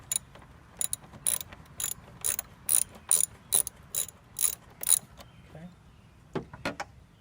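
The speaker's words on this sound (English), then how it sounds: "We have another 8mm right here on this strap that we need to loosen." A hand ratchet loosens an 8mm bolt on a strap under the hood of a 2.5L Jeep Wrangler, giving a close, rapid series of clicking pawl bursts in short strokes, followed by a faint rustle.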